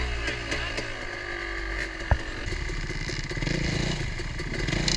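A dirt bike engine revs and labours on a trail while the bike hangs up on big tires, a steady rough drone that swells louder toward the end, with one sharp knock partway through.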